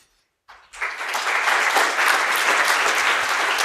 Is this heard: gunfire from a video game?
no